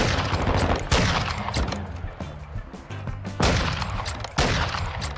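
Video game rifle fire shooting through walls: loud, sustained bursts of rapid automatic shots with heavy thumping impacts, broken by short gaps, and no one talking over it.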